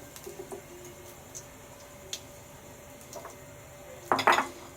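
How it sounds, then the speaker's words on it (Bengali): Soft clinks and scrapes in a frying pan, then a brief burst of sizzling and clatter near the end as potatoes drop in. "এবার আমি এখানে আলু দিয়ে দিলাম"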